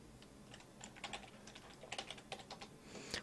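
Keys tapped on a computer keyboard to enter a command in a Linux terminal, quiet and close, in quick irregular clusters of clicks that grow busier toward the end.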